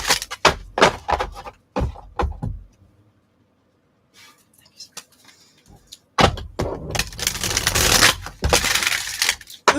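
Oracle cards being shuffled by hand in quick bursts of riffling and slapping, loud and close, with a quiet pause in the middle before a long busy stretch of shuffling.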